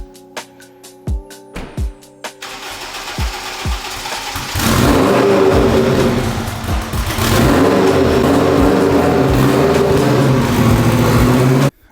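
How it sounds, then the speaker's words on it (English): A Lamborghini V10 with a full titanium exhaust cold-starts after a few clicks and clunks, then roars loudly at a high idle with throaty revs, close and sustained. "V10 Lambo with a full titanium exhaust pipe"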